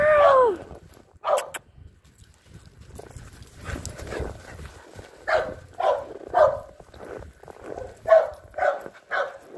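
Several dogs bark in short bursts, one after another, with a high whining yelp at the start; fairly close and moderately loud.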